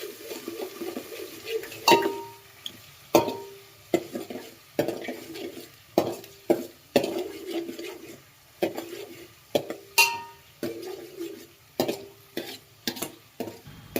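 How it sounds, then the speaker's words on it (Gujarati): Oil and water with sugar heating in a pan as tempering for Gujarati methi khaman: repeated spoon scrapes and clinks against the metal pan over a low, steady sizzle, close and fairly loud, with no talking. "જેટલું તેલ લીધું હતું એટલું પાણી નાખી અને પાણીને 2 મિનિટ પકાવી દઈએ"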